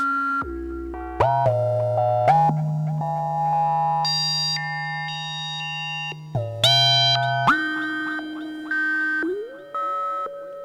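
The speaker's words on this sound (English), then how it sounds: "Just got a little bit of delay on this." Synthesizer tones shaped by a delay effect and added resonance, a sequence of sustained pitched notes stepping up and down, each change followed by echoing repeats, clear and prominent with no voices.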